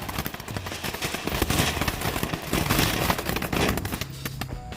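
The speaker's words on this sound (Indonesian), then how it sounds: "Air mancur butterfly fountain." Butterfly fountain firework spraying sparks in a dense, continuous crackle and fizz, loud and close, with rapid popping bursts throughout and no talk.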